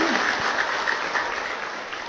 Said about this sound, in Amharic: አጨብጭቡና ገለጹ